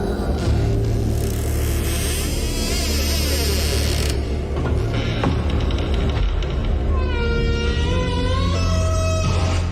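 A creaking door being opened, a loud, drawn-out grinding creak with rising squeals over a dense, noisy background.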